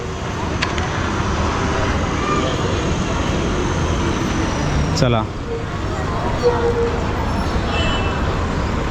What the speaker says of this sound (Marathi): फायनली आपली गाडी आलेली आहे